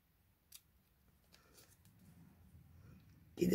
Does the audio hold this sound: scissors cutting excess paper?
yes